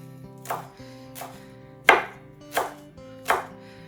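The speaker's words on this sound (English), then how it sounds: "we're just gonna chop up this fresh basil as fine as I can get it" Knife chopping fresh basil finely on a cutting board, five distinct close chops spaced about every half to one second, each a crisp bright thwack over quiet low background hum.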